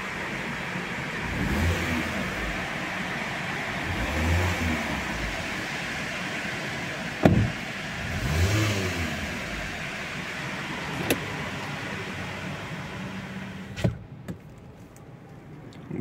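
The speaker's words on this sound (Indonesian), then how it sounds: "Nah ini dia suara mesinnya." The engine of a 2022 Mitsubishi Xpander Ultimate facelift idles with a low, steady hum and a few soft swells and clicks. It is heard from nearby, with no talk over it.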